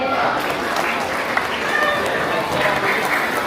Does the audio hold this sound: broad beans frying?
no